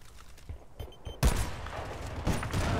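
Gunfire from the video game Battlefield: Bad Company 2 in Rush mode, with a sharp burst of rapid shots crackling after quieter scattered reports and then continuing in a ragged volley.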